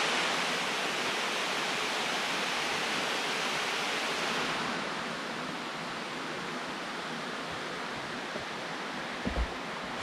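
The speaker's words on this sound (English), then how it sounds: "Oh, we're at the top of the waterfall." A waterfall rushing, heard from the top of the falls on a hike at Castle in the Clouds in Moultonborough: a constant, dense roar of water, close and steady, with no voices.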